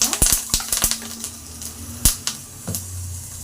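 Green chillies fry in a little oil in a pan for a North Karnataka chilli chutney, with sharp crackling pops and sputters, clustered early, then scattered, close and fairly loud.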